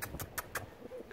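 Pigeons coo in a short burst of soft, low calls, a few close cooing phrases over a faint background.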